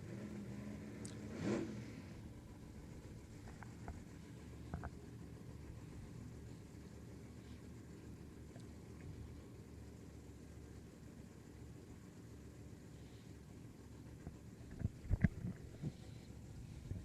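Two drag racing cars idle in pre-stage at the US Street Nationals, a steady low engine rumble running throughout with a brief rev near the start and a few sharper bursts toward the end.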